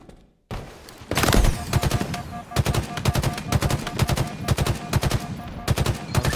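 Rapid gunfire from a Halo match, including pistol shots, crackles in dense close bursts almost without pause after a brief quiet start, with faint voices mixed underneath.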